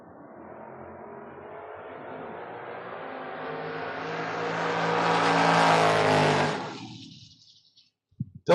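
A Mustang and an 82 Camaro launch in a drag race at a Door Wars event, engines building into a rising roar that swells as they pass, then fades quickly into the distance.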